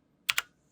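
Two quick, crisp computer keyboard key presses, close by, made while switching viewports in the Blender 3D program, with near silence around them.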